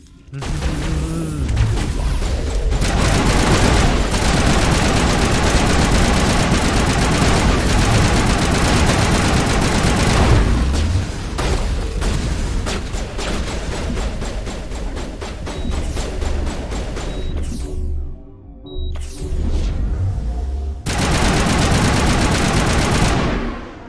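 Sustained automatic gunfire and explosions from a firefight in Mass Effect Legendary Edition, loud and close, with rapid bursts filling nearly the whole stretch and a few brief lulls near the end.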